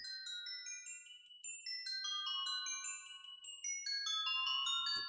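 A chime-like golden instrument from a Minecraft mod plays a quick run of bright, bell-like notes, each one ringing and decaying, stepping through a rising and falling melody, clear and alone with no talking.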